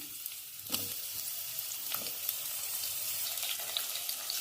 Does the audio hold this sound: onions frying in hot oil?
yes